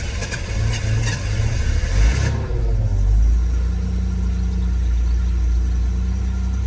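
Barn-find Jaguar XJ6 with a major engine problem cranks over briefly, then catches and settles into a steady, low rumbling idle that continues alone to the end.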